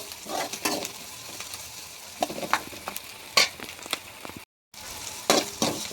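Onions and green chillies sauté in a pan with a continuous sizzle, broken by repeated clattering stirs, a brief dropout near the end, then more scraping.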